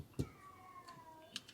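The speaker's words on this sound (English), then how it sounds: "There's a cat out here that's not happy." An unhappy cat meows outdoors in one drawn-out, wavering cry, moderately faint and distant, with a few sharp clicks before and after it.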